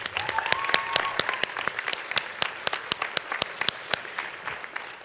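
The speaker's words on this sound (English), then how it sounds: "Can we give them one more round of applause?" A small audience gives scattered, fairly quiet applause, with sharp individual claps ringing out at an uneven pace against light background murmur.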